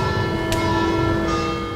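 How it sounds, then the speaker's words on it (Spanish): Church bells ringing on the Italian Riviera, a sustained resonant tone hanging steadily over the whole stretch with a brief brighter strike partway through, fairly loud and close, with no talking. "el sonido de campanas. Campanas siempre aquí."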